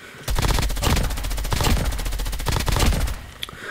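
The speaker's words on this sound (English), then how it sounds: "it does have that higher fire rate, which makes it a lot more consistently" An M13 rifle fires in Call of Duty Mobile, one loud, fast, continuous automatic burst lasting about three seconds before cutting off.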